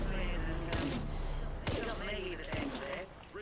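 Gunfire in Apex Legends: a few sharp, loud shots crack out about a second apart over a busy background of game noise, with a voice faintly present underneath.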